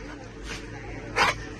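Dogs at an adoption event with corgi puppies, a Labrador and a black mixed-breed dog: a soft yip early on, then one sharp, close bark, over a low background of voices.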